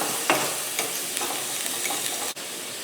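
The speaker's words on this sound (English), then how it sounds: "All right, let's mix that around." Ground bison sizzling in a pan as coriander and oregano are stirred in, a soft steady fry broken by several scraping strokes of a utensil and a sharp knock near the end.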